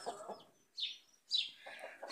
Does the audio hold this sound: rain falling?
no